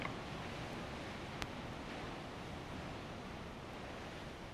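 Water rushing and churning against rocks at the Dalles Dam on the Columbia River, a steady, dense broadband roar with a single faint click partway through and no voices.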